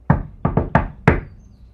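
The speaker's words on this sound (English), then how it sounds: "now there's a knock at your door" Five sharp knocks land on a front door: one, then a quick pair, then two more spaced apart. Each is loud and close with a short decay, and no one speaks.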